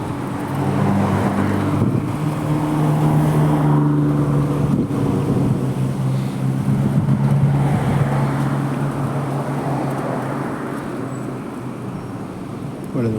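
A green line 3 tram pulls away from Port Marianne station in Montpellier, a rising motor whine and rolling rumble swelling over the first few seconds and then easing as it moves off, with wind and street noise around.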